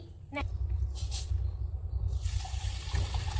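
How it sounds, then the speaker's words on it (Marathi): A glass of water is poured into a frying pan while making bread gulab jamun. A steady rushing pour runs under a low hum and some voice sounds. "याच्यामध्ये 1 ग्लास पाणी घालणार आहे"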